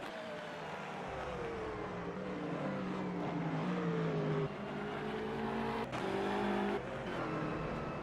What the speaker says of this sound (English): Roman Rabatsev as Luka Simpner comes down pit lane